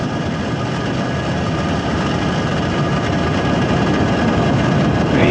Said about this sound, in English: Ignitions. Engines full power. And liftoff.